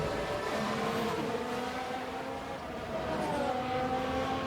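Formula 1 race car engines in a video game, a steady high-pitched whine with shifting tones as cars take the final corner during pre-season testing, continuous and fairly loud with no talk.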